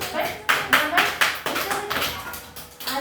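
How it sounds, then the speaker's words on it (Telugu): Children clap their hands in a run of separate, fairly loud claps with uneven spacing, mixed with light chatter and an adult voice in the background. "కొట్టండి క్లాప్స్"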